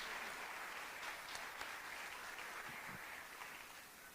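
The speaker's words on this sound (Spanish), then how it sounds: "Vamos a darle un aplauso a este par, a este trío" Audience applause in a church, a faint, distant wash of many hands clapping that holds steady and then tapers slightly at the end.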